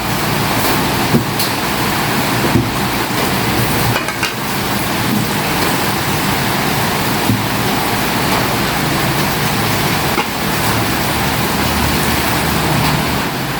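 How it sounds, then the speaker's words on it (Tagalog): Heavy, steady rain pours in a broad, constant hiss with no gaps, loud and close throughout on a humid day, with faint traffic-like rumble underneath and no voices. "Lumalakas ang ulan"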